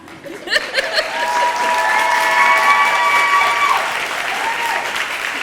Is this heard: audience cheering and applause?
yes